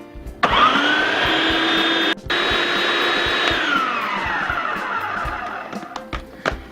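A food processor whirs loudly as it blends pumpkin pie filling, a high motor whine that cuts out briefly, restarts, then winds down in pitch before stopping.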